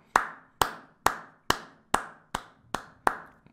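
Eight sharp, evenly spaced claps roughly half a second apart, close and clear against near silence, cheering on someone being praised as a hero.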